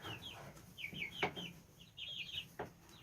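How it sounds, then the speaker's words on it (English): Several hens cluck and chirp in short bursts, close by, with soft rustling and a couple of sharp taps between calls. "What a lovely spot for chickens."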